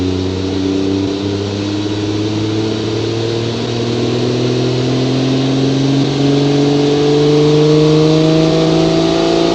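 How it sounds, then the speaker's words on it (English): A car engine labors up a hill in BeamNG, a steady loud drone whose pitch climbs slowly and evenly throughout, with no talking over it. "the other car might be a bit better climbing a hill, as this one seems to be struggling"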